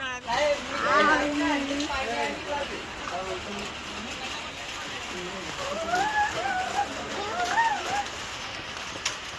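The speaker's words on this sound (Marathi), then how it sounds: "इथं पाऊस आलेला आहे बघाय" Rain patters steadily in the background during a Holi gathering while people talk over it, with voices rising and falling throughout.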